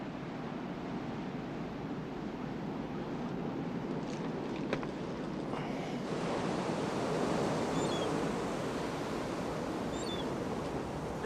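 Ocean waves and surf roll onto a beach in a steady, washing roar that swells slightly about midway. Faint high calls drift above it, and no one speaks.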